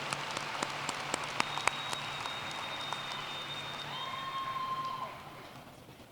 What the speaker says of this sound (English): Let's have a round of applause for the 2019 Division and BAS Program Award winners.